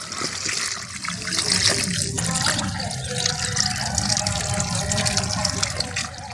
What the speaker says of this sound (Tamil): கொஞ்சம் தண்ணி விட்டுடலாம் செடிகளுக்கு